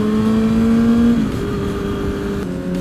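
Carbon-bodied Ducati Panigale motorcycle engine running loud and close, a steady high drone that rises and then settles into a lower tone, like the rider easing off the throttle, with no talking.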